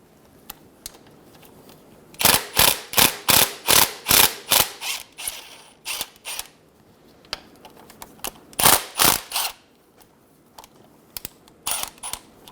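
Ratchet wrench backing a bolt out a few threads on a 2000-2007 Ford Focus transmission: a run of rapid, evenly spaced clicking bursts, then scattered shorter bursts, close and loud over quiet background.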